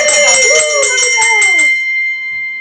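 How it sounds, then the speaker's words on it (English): A hand bell rings in a series of bright, rapid strokes at a school event, loud and close, with a voice sliding underneath before the ringing fades to a lingering tone. "ring the bell again"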